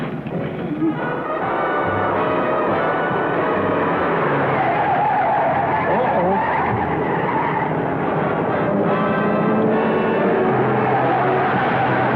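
A car speeding while fleeing bandits, a steady loud engine roar with tire noise and some skidding throughout, close and continuous with no talk.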